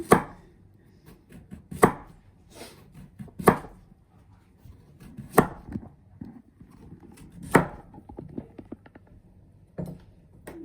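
A knife slicing vegetables thin on a cutting board, a series of sharp, close chops coming in irregular bursts with softer cuts between them, heard alone with no speech.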